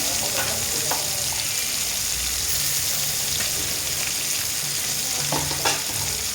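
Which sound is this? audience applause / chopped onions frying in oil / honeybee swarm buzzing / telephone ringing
chopped onions frying in oil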